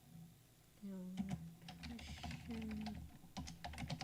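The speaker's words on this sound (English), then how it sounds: "if you can hear the keyboard" Rapid clicking of keys on a computer keyboard in irregular bursts, close and fairly quiet, with a voice murmuring briefly over the typing.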